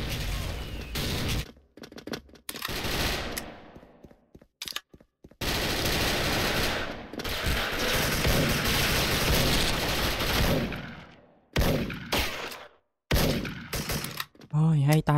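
PSG-1 sniper rifle fire in a Special Force shooter video game comes as loud, sustained stretches of shooting broken by brief silences, with no talking.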